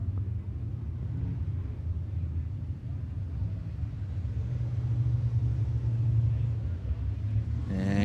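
A Sportsman race car spins at a speedway, its engine giving a steady low rumble that swells slightly before a brief rise at the end, with no voices over it.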